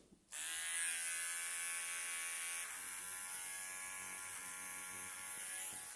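Electric hair clippers buzzing as they cut hair, switching on abruptly and running as a steady close, quiet motor hum with slight changes in tone as the blades move through the hair.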